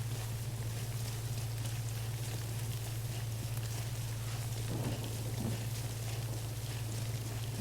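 Steady rainfall in the Death Stranding video game, an even, continuous hiss of falling rain over a low constant hum, unchanging throughout with no voices.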